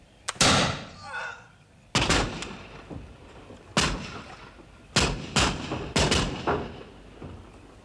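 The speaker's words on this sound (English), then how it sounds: "Let us return their fire." Gunfire at a fort in a film battle scene, with heavy, booming shots cracking out one by one at irregular intervals, loud and near, each followed by a rumbling echo.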